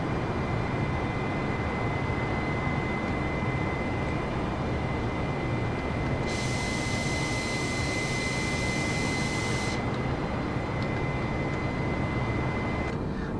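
An airliner's jet engines roar steadily at maximum power in Microsoft Flight Simulator, a constant broadband rush with a faint high whine layered over it, loud and unbroken throughout.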